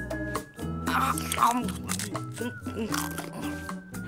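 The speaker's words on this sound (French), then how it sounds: "ce serait nettement meilleur sans tous ces petits morceaux de coquille qui craquent sous les dents" A cartoon character bites into a fried egg containing bits of eggshell, giving several crisp crunches mixed with chewing, heard under lively animated dialogue and music.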